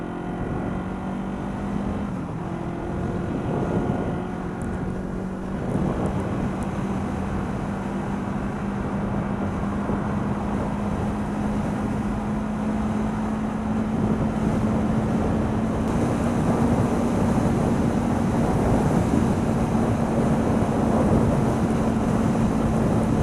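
Steady rushing wind and road roar inside a Caberg Hyper X motorcycle helmet at 30 mph in moist, windy weather, with a low engine drone running underneath throughout and no talking.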